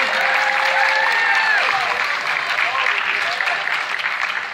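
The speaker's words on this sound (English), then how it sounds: "Yeah, you can clap if you want." An audience claps steadily through a school spring concert for a saxophone ensemble at DH Conley, a dense, even roar of hands with some voices and tones faintly mixed in.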